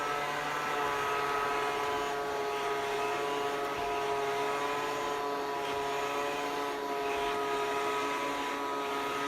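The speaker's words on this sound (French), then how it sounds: "il fait du bruit, comme un aspirateur lambda" A steady mechanical whir with a constant motor hum, unbroken and fairly close, from a Taurus Striker Mini robot vacuum cleaner running on its own.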